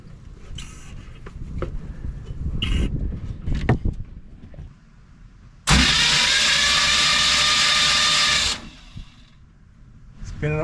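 The engine of an old, abandoned motor home cranks over for about three seconds in a loud, steady churning burst, after a stretch of knocks and handling noises, then cuts off.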